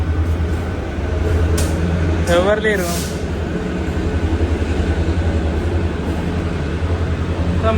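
An MMTS suburban train from Falaknuma runs with a steady, loud rumble and rattle of the carriage throughout, and a brief squeal rises near the middle. A voice speaks over it.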